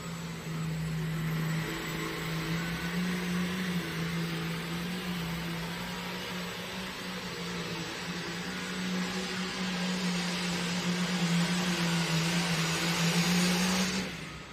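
An 8,500-pound hot farm pulling tractor at a tractor pull roars in a steady, unbroken drone that holds for the whole stretch, sounding somewhat distant, with no voices over it.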